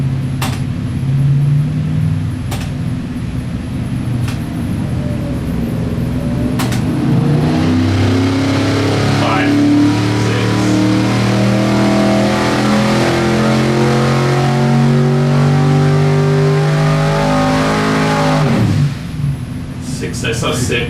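A Flex car engine runs on a dyno, its loud sustained note rising steadily under load toward a peak and then cutting back, with a few sharp pops at the start.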